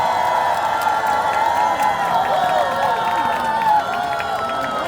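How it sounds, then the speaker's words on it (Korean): At the 28th Bakdal Song Festival in Jecheon, a trot singing contest, the crowd answers with a big round of applause, steady clapping blended with cheers and whoops at a moderate, even level. "한 번 큰 박수 보내주시면 감사할 것 같습니다"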